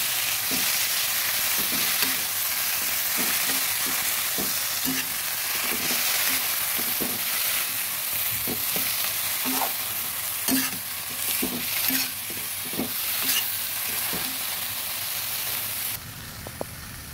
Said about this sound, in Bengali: এবার দিয়ে দেব শাকটা। ভালো ভাবে নেড়ে দিচ্ছি।